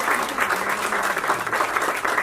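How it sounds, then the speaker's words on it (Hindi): An audience applauds loudly and steadily in a hall at a book launch event attended by Udit Narayan, dense clapping filling the whole moment without a break. "जोरदार तालियां हो जाए"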